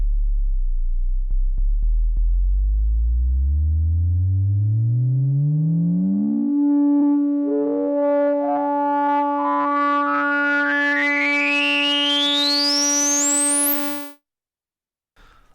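A Behringer Odyssey synthesizer drones in a deep rumble while the filter cutoff sweeps slowly upward, the tone brightening into a rising whistle over a held note for about fourteen seconds before cutting off.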